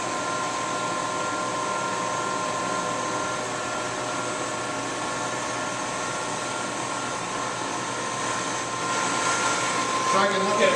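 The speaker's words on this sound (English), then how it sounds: "Turn the spindle on." A machine tool spindle runs with a steady, even whine and hum that holds unbroken throughout, then swells slightly louder at the very end.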